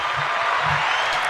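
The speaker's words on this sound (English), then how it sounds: "Let's get some applause." Podcast studio audience applause, a steady wash of clapping filling the whole short stretch at moderate loudness, with no speech over it.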